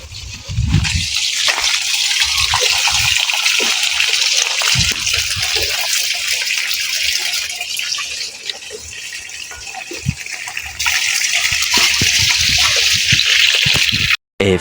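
Water runs from a tap into a tank in a yard, a steady loud rushing gush that continues throughout with a brief break near the end.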